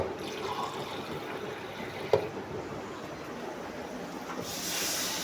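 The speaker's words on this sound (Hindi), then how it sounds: "बस 1 कप मैंने पानी डाला है।" Water being poured into a pan of frying masala with vegetables such as potatoes and tomatoes, a steady close sizzling hiss with a brief splash partway through.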